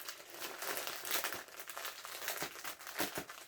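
A small plastic sachet holding a lingerie kit is torn and opened, giving a close, continuous crinkling and crumpling with sharp rustling bursts throughout, no voices.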